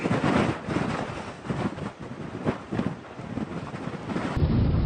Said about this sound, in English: Wind speeds have been increasing.